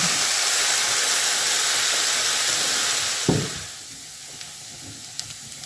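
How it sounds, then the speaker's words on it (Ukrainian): A steady loud sizzle of vegetables frying in a pan, then a sharp clatter as they're stirred, after which the hiss drops to a quieter simmer. "Ось так час від часу потрібно перемішувати."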